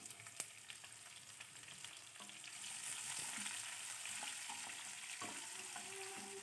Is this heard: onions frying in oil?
yes